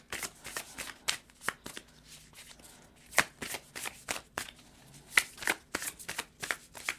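A deck of tarot cards is shuffled by hand in a quiet room, giving a rapid series of crisp riffling bursts and soft taps that come in uneven clusters, close and fairly faint.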